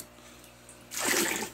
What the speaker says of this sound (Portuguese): Colocar aqui meio de água.